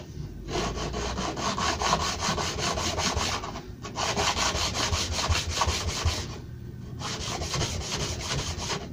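A steel planer blade worked flat on a sharpening stone to remove the burr, giving steady close rubbing strokes in three long passes with brief pauses between them.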